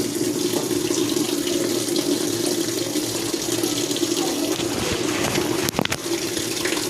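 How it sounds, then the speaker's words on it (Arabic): Water runs steadily into a Union Air top-load washing machine set to its lowest water level, a constant close hiss and gurgle with a brief clunk near the end and no talking. "الغساله هتسحب طبعا كميه ميه قليله اقل حاجه."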